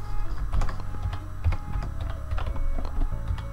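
Computer keyboard typing, a steady run of close, loud key clicks without talk, while text is entered in presentation software.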